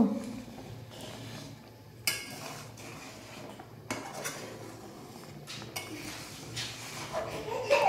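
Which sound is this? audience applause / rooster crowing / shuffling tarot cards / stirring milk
stirring milk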